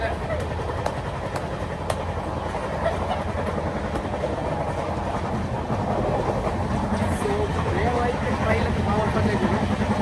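A passenger train rolls past on the Nellore to Hyderabad line, a steady loud rumble of wheels and carriages with faint clicking on the rails, continuous for the whole stretch and fairly close, with people's voices mixed in underneath.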